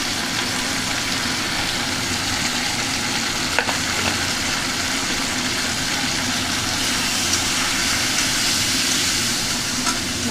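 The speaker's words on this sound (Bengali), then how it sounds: "নাড়াচাড়া করছি" Beans and fish fry with salt and turmeric in a pan while being stirred, giving a steady, dense sizzle throughout with a couple of faint clinks and no voices.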